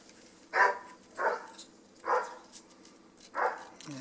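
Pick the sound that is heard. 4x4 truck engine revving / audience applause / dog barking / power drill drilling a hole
dog barking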